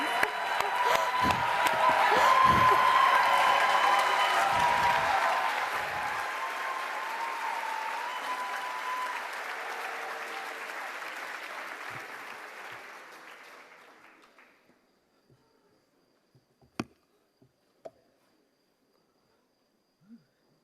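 At the World Food Forum closing ceremony, a large audience applauds a speaker walking on stage, a loud, dense wash of clapping that fades out over about fifteen seconds into near silence with a few faint clicks.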